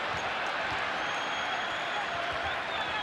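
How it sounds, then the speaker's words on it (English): Basketball crowd at a 1997 Knicks home game against the Mavericks at Madison Square Garden, a steady broad roar of cheering and murmuring throughout, with faint thumps that may be the ball bouncing. "Crowd reacting to the hustle of Scott Brooks,"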